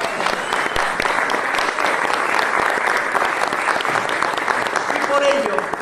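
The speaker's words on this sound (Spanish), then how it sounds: "¡Un fuerte aplauso!" Sustained applause from a restaurant audience fills the room, steady and loud, greeting a champion of Asturian pote at a presentation of cocido madrileño days at Restaurante Leitariegos in Asturias.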